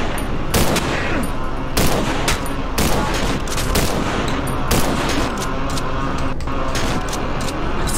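Rapid, loud gunfire in the horror video game Cry of Fear, dense bursts of shots crackling almost continuously over several seconds.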